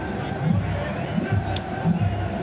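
Large stadium crowd at an India vs Pakistan Asia Cup final cricket match, a steady roar of distant babble and cheering that fills the background without breaks.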